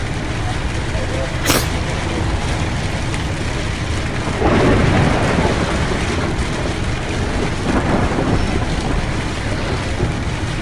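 Rain falls steadily with rumbles of thunder in a bus simulator game, a dense continuous wash of noise with a low roll swelling midway and a sharp click early on.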